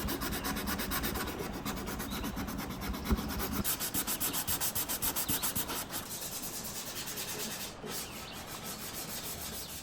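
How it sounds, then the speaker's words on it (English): Steady, loud abrasive rubbing as a wooden dresser is sanded with sandpaper and a sander, working up through 180 and 220 grit, with a rhythmic back-and-forth pulse through the middle of the stretch and a short pause near the end. "I'll slowly work my way up to 180 grit sandpaper and 220 grit sandpaper"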